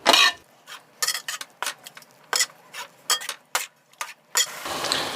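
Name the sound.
stirring carrot halwa with milk in a pan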